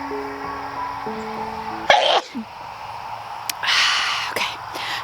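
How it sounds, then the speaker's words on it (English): A single sharp sneeze bursts out outdoors in a sunflower field on a flower farm, loud and close, followed by a brief breathy tail and quieter rustling background. "I'm gonna sneeze."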